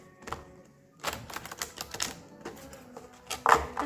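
Oracle cards being shuffled by hand, a series of quick papery riffles and soft slaps in uneven bursts, close and fairly quiet with no talk.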